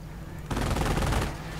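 Rapid automatic fire from an Ostwind Flakpanzer anti-aircraft tank in a real-time strategy game, bursting in loudly after a brief quiet lead-in and then rattling on continuously.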